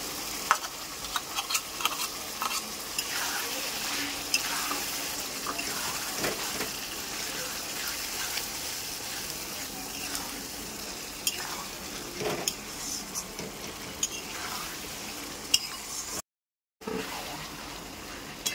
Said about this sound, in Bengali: কাবলি ছোলাটা দিয়ে ভালো করে কষতে হবে।